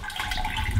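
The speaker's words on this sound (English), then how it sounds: "Now we're just going to put in a bit of sparge water" Hot sparge water at about 78 degrees is poured over brewing grains for a homebrew rye IPA, a short close splashing trickle.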